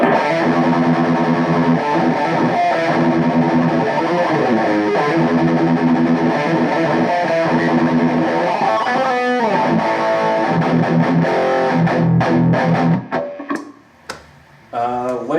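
Electric guitar through a Laney Ironheart 60 amp with a 2x12 cabinet on super overdrive, loud, dense distorted heavy metal riffing with chugging palm-muted chords that cuts out near the end into brief string noise.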